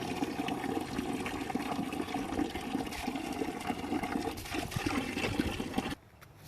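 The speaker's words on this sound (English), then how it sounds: "So I always start the afternoon off with filling up Jack's water." Water pouring steadily into a horse's drinking container in a paddock, a continuous gushing fill that runs loud and even before cutting off abruptly near the end.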